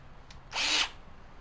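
A power drill fitted with a Thor tip drives a Thor-type head bolt on a tapering jig. It gives a single short, close whirring burst of about a quarter second, then stops.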